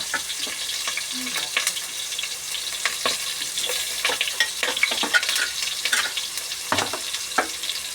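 Onion and ginger fry in a pan with a steady broadband sizzle, while a utensil scrapes and stirs in repeated irregular strokes close by, with no talking.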